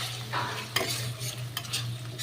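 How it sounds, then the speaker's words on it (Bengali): Spice paste for an all-vegetarian cauliflower curry sautéing in a pan while being stirred, a steady soft sizzle with scraping spoon strokes and a few clinks, close and alone. "এবার এটা কষানো হবে।"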